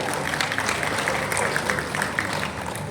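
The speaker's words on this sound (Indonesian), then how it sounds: "Berikan tepuk tangan Bapak sekalian." Audience applause welcoming the Director General at a launch ceremony for a limited-edition Seiko Sumatran Tiger watch in Indonesia, a continuous patter of clapping with crisp individual claps throughout, some voices blended in.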